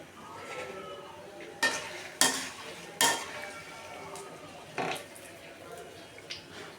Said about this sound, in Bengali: কেটে রাখা নিমকিগুলো এক এক করে ভেজে নিব।